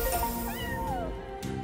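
A cartoonish cat meow from a Wild Whiskers online slot game rises and falls over steady casino game music, loud and close, with no talking.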